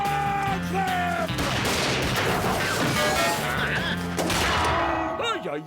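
A cartoon gunfire volley from a band of cowboys in a Western, loud rapid shots blending into a continuous clatter mixed with music and shouting voices.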